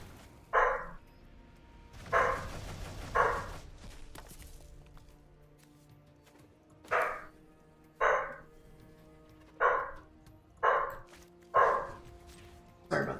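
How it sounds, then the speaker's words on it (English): A dog barks in the background of an MTG Arena Historic game session, giving about nine sharp, loud barks in irregular bursts with short pauses between them. "Sorry about the dog."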